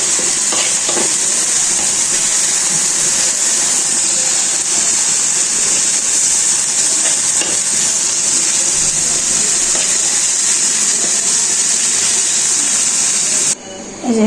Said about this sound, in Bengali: পালং শাকটা বাগার দিয়ে নেব। শাকটা এখন ঢেলে দিয়ে এখানে একটু নাড়াচাড়া করে তারপর নামিয়ে নেব